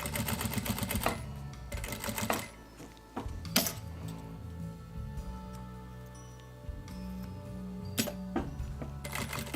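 A sewing machine stitches a wallet kit with backstitching at the start and end, giving several bursts of rapid mechanical clatter separated by pauses and quieter handling noises, close and fairly loud.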